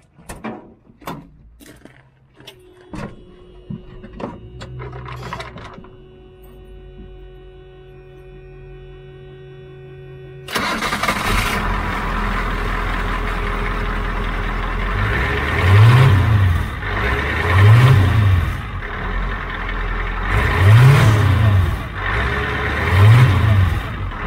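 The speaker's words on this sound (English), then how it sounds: "I'm gonna start her up and we'll see how she sounds." An International truck starts up after an exhaust leak repair: a few clanks and a door sound, then the engine cranks and catches, settling into a loud close idle with several rhythmic revs, no talking.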